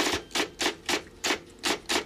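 Eight evenly spaced taps made with fingers imitating a typewriter, crisp and close, repeating in a steady rhythm with quiet gaps between them.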